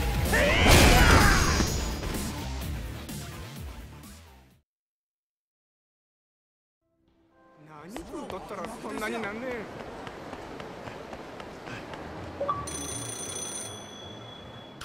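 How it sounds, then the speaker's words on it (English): A telephone rings inside the Yakuza 0 video game, a bright tone that sounds late and sits over busy game sound, after a loud, chaotic passage and a stretch of silence. "This phone's really bugging me. Might as well answer it."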